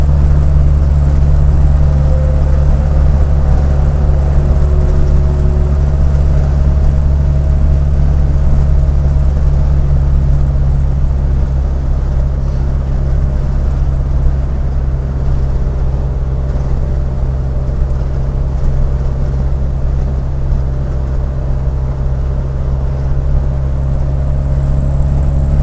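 The Norfolk Herald's boat engine drones steadily at speed for the whole stretch, a loud, close, continuous low rumble with no talking over it.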